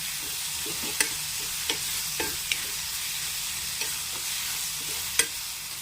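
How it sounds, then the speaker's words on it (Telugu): Dried prawns frying in oil with chili powder and turmeric, a steady bright sizzle under light scraping stirs and a few sharp clicks of the spoon on the pan, moderately close and uninterrupted by speech. "ఎండి రొయ్యలు కొంచెం నూనెలో ఉడకాలి"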